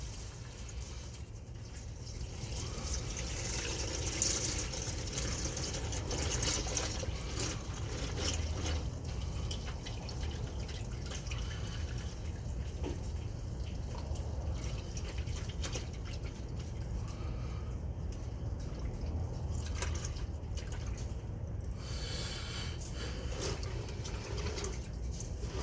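Engine oil drains steadily from a 2014 Dodge Ram 1500 with a 5.7 Hemi, a continuous liquid trickle and splatter close by that holds an even level throughout, with no voices.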